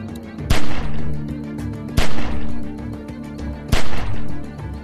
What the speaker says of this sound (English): Shoot at the window and keep that fucker's head down till I get where I'm going